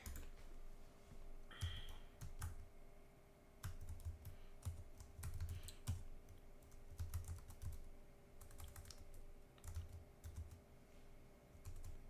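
Steady typing on a computer keyboard, close and moderately quiet, with bursts of keystrokes separated by short pauses over a faint background hum.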